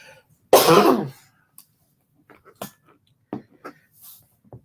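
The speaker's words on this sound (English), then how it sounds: "when I get hot, I start coughing." A loud throat clearing and cough up front, followed by several short, softer coughs and throat noises spaced apart in a quiet room.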